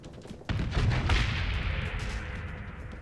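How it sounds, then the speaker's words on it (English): Missiles fire and blow up in the video game Destiny, a sudden loud burst of booming gunfire and blasts that holds for about two and a half seconds with a rumbling tail. "What are these missiles?"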